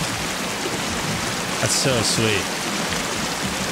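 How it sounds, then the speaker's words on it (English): Steady rushing water from a waterfall in the survival game Sons of the Forest, a broad constant wash throughout, with a brief spoken remark partway through. "Can't get over how good the waterfalls look."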